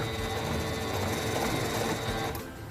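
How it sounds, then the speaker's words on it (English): SINGER 7258 computerized sewing machine stitching backwards with the reverse button held: a steady, fast mechanical whir and needle rattle that stops abruptly near the end, with no talking. "Press and hold the reverse button to sew backwards a few stitches."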